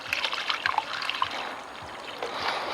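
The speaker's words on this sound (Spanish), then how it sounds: "y así que agrego un poco más de agua" Water trickles and splashes as it is poured into a planter pot holding a lemon tree's root ball, a steady close pour running alone for a few seconds.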